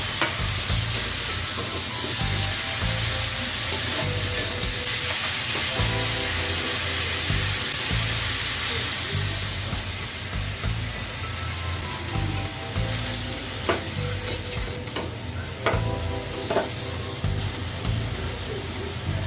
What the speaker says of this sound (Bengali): এবার শাকগুলো দিয়ে দিচ্ছি। শাক দিয়ে আমি খুব বেশি কষাবো না, হালকা নেড়ে চেড়ে